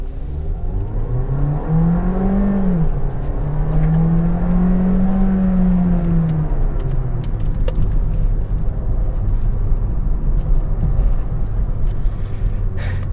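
A Volkswagen Virtus with a 1.5 TSI engine and DSG gearbox pulls away under acceleration. The engine note rises and sweeps upward through the revs, loud and continuous inside the cabin, over a steady road roar.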